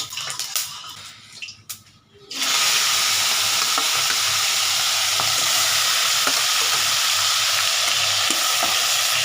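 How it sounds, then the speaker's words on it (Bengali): Prawns dropped into hot mustard oil burst into a loud, steady sizzle after a quieter start with a few clinks, the frying hiss continuing close and unbroken. "আমি সর্ষের তেল দিয়ে করবো এটাকে আগে মাছটা একটু ভেজে নিই"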